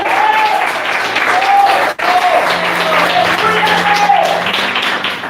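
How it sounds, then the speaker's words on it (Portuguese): A church congregation applauds in sustained, dense clapping that fills the whole stretch with only a brief dip near the middle, while faint voices and a low hum sit underneath. "aplauda o mestre neste momento"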